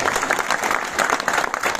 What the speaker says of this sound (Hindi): इसलिए दोबारा जोर से ताली बजाओ।